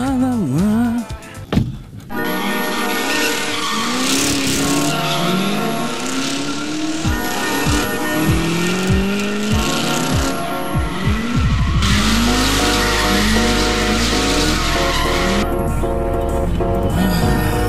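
Tires on a BMW M5 E34 squeal loudly and steadily as the car drifts, the rising and falling engine roar running underneath without a break for close to eighteen seconds.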